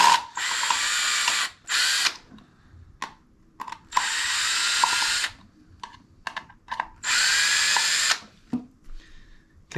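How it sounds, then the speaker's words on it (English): A power drill backs four screws out of a OneGauge unit's box in several short whirring bursts, close and loud, with ratcheting clicks and small handling noises in the pauses between. "I'm just going to use a drill, take out these 4 screws"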